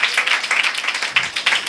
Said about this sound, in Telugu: ఒట్టు మరి బిగ్గరగా చప్పట్లో